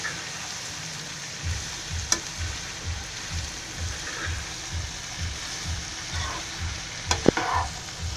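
Pumpkin bhaji frying in a pan, a soft continuous sizzle with rhythmic stirring strokes scraping the pan and a couple of sharp utensil clinks, close with no voices.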